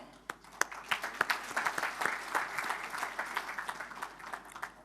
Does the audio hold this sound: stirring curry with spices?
no